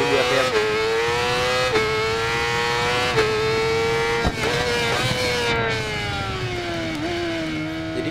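Motorcycle engine in Ride 4 held at full throttle around 8,000 RPM for launch control, a loud sustained buzzing drone with brief dips and recoveries in pitch, gradually sagging lower toward the end.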